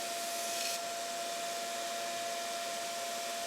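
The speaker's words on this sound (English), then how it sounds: "notice that I have the volume down, but that shop vac is running." Shop vac running steadily in a knife-grinding workshop, drawing grinding dust into its HEPA filter: a continuous, even whooshing drone with a steady whine, close and loud, with no pauses.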